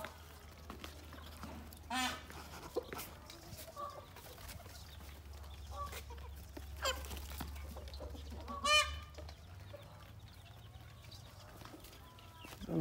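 Backyard poultry including a hen with her small chicks, giving scattered clucks and squawks with goose-like honks among them, fairly close against a steady low hum and outdoor background noise, with no talk.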